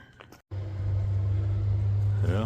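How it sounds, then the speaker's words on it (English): A water truck drives past close by, a loud steady low rumble swelling in after a brief silence and holding for about two seconds, with faint voice-like sounds at the start and end. "His water truck just went by in front of him."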